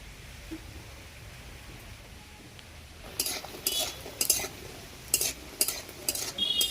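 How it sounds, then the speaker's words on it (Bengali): Bori lentil dumplings fry in a pan with a soft, steady sizzle. Partway through, sharper clinks and scrapes of a spatula join the frying, close by, with no talking. "এবারে আমি কিছু বড়ি নিয়েছি, বড়িটা ভেজে নেব।"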